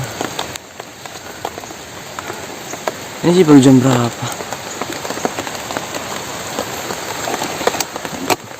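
Rain falling outdoors on a garden plot in the afternoon, a steady patter on surfaces with insects chirping in the background; someone speaks briefly over it midway.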